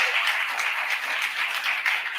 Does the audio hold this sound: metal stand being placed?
no